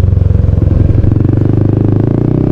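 A motorcycle close by on a foggy road in Tagaytay, a loud, steady, rapidly pulsing engine chug filling the whole moment without any talk.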